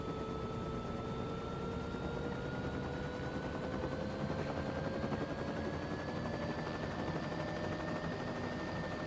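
A helicopter's rotor and engine hum steadily as the throttle is eased up, the tone rising gradually over several seconds, loud and close, with no talk.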